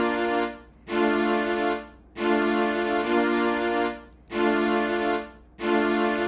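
Sustained small string section patch from a Roland Phantom sound font with built-in reverb, playing four long swelling chords, each fading into a brief gap before the next, alone with no talk.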